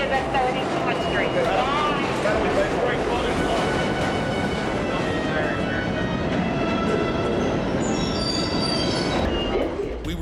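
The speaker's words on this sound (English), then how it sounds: "any train here will take you to 34th Street." A New York subway train running loud and close, with continuous rumbling, clattering wheels and high squealing from the rails building toward the end, filling the whole stretch.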